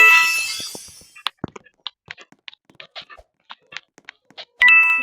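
A subscribe notification bell sound effect rings out as a chime at the start, followed by a run of scattered small clicks and pops, then another bright ding at the end.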